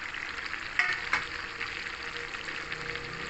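Half a kilo of jaggery stirred into mango pickle frying in hot oil, a steady close sizzle with a couple of soft clinks from the spoon, no voices.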